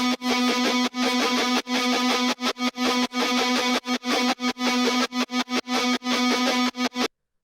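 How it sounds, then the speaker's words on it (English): Picked electric guitar line run through Soundgoodizer, EQ, distortion, Fresh Air and Fruity Balance in FL Studio for an orchestral punk bass remix; a loud, buzzing, choppy rhythmic pattern of rapid separated notes ending abruptly. "Picking guitar."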